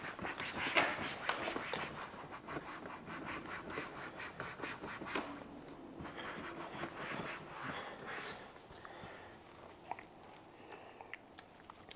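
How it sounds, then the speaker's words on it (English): A product is rubbed by hand into car trim, producing continuous close scrubbing and rubbing strokes that ease off and become sparser near the end, with no talking. "put it on here, and then just kind of rub it in"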